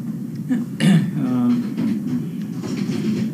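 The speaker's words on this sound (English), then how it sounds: "I just get this cough, lingering cough." A single short, lingering cough, close and fairly loud, with a soft low background rumble before and after.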